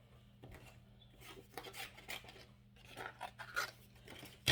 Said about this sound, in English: I'm going to get my scissors and cut it